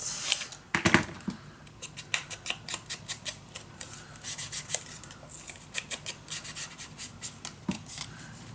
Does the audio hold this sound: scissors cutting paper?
yes